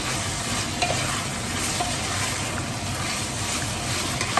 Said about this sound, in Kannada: ಅದನ್ನು ಚೆನ್ನಾಗಿ ಫ್ರೈ ಆಗಬೇಕು.